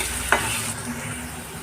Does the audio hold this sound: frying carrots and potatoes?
yes